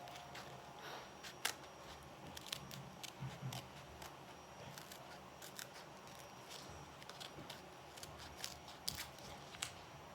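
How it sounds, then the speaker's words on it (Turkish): Scissors snip around a temporary tattoo sticker as a series of sharp, scattered clicks and crisp cuts over a soft rustling background, moderately close and fairly quiet, with no talking. "Makascığım keser misin ya?"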